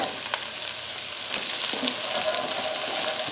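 Chopped asparagus sizzling in a frying pan while cooking for asparagus soup, a continuous close hissing crackle with a few faint clicks and no voices.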